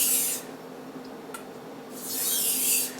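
A chef's knife is stroked across a Japanese water stone to finish the edge, with two long, scraping swipes separated by a short quiet pause, close and fairly loud.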